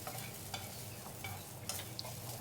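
Curry leaves frying in hot oil for a peanut chutney, a soft steady sizzle with faint stirring scrapes, low in level and alone without voices.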